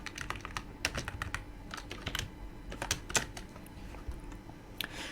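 Quick bursts of typing on a computer keyboard while entering a short line of code during a Raspberry Pi tutorial, close and crisp key clicks in uneven clusters.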